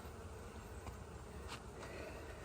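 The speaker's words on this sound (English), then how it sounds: "Set them out back, let the bees kind of fly off of them" Honeybees drone around beehive frames set out behind the hive during an inspection, a continuous close buzzing hum with a few brief louder passes, no talking.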